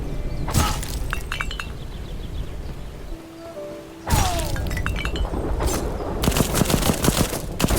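Explosions go off in the video game Black Skylands: sharp shattering bursts with crackling debris, a loud first blast, a brief lull, then a bigger eruption followed by scattered rapid crackles and pops.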